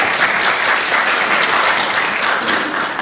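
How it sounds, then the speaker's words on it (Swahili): A room of cooperative society delegates applauds the national chair, a dense steady wash of clapping held at an even loud level throughout. "Situpigie chair makofi mazuri."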